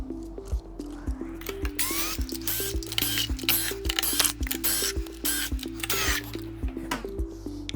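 Small 3mm screws being backed out of the top cover of an Inmotion P6 electric unicycle with a driver, giving steady rhythmic ratcheting clicks and light metallic ticks, close and clear, with no talk.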